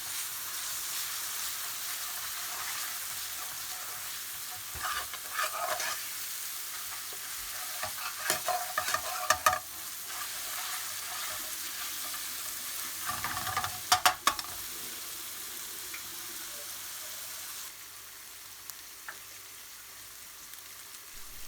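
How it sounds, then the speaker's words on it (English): Garlic and ginger paste fries over high heat in a pan, a bright continuous sizzle with stirring scrapes and crackling bursts in the middle, easing slightly toward the end, no speech. "Turn up the heat and cook the garlic and ginger paste for around 30 seconds."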